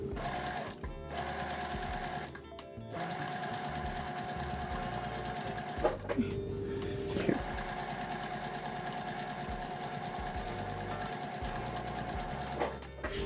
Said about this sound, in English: we're going to sew a 1/4 inch seam along both sides of the line we just put on there